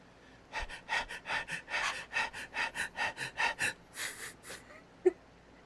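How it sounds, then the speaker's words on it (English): Two people pant heavily in a quick, regular rhythm of breaths, close and fairly loud, ending with a gasp and a sharp short sound. "Both panting."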